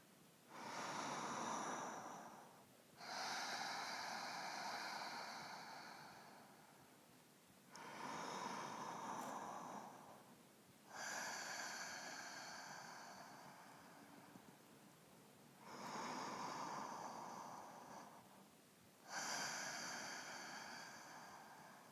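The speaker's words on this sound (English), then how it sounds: "have deep, complete Ujjayi breaths" Deep Ujjayi breaths during a vinyasa yoga class, six slow, hissing breaths with an ocean-like rasp, each lasting a few seconds with short pauses between, close and steady with no talking.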